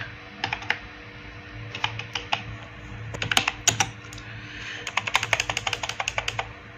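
Close, crisp computer keyboard typing comes in bursts of rapid key clicks with short pauses, over a low steady hum and with no talking.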